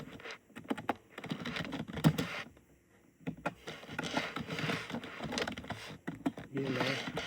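Computer keyboard keys clicked in quick bursts while entering a name on a new account form, close and fairly clear, with short pauses between runs of keystrokes and no talk.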